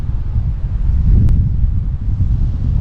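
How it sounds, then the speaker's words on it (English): Strong wind gusts across a coastline facing islands, roaring and buffeting steadily and loudly for the whole stretch, with no voices. "I know it's windy, but bear with me."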